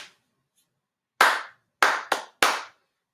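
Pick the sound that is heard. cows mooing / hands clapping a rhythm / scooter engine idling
hands clapping a rhythm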